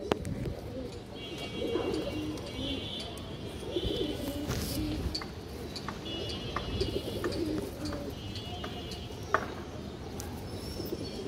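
Pigeons coo repeatedly in a loft among several birds, low throaty calls overlapping at close range with a few faint chirps and light clicks in between.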